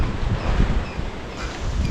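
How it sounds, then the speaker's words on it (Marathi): Strong wind gusting through a coastal Konkan village during the monsoon, a steady close roar with rustling and buffeting against the microphone, no voices. "हा वारा एवढा सुटला आहे बघा कागद वगैरे उडवतो आहे सर्व"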